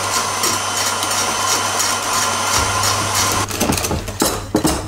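An electric mixer whirs steadily at close range, whipping egg whites into stiff peaks for a Christmas log cake. Near the end its motor noise breaks into uneven clatter and bumps.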